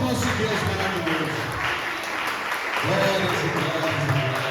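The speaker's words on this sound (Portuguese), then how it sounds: "Aquela salva de palmas do nosso Deus maravilhoso." A church congregation claps in a sustained round of applause at a worship service, dense and steady throughout, with voices mixed in.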